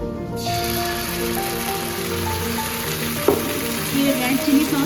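Red chilli sauce hits a spoonful of hot olive oil in a pan and sizzles loudly and continuously, with a brief clink of a utensil near the end, close and with no voices.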